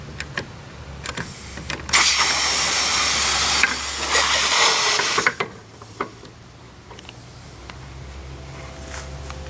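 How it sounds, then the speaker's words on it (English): Natural gas hissing out while a fitting is swapped on a Predator generator, a loud broad hiss lasting a few seconds amid clunks and handling noises, with quieter taps and clicks afterward. "And it's going to leak out gas, and this is dangerous"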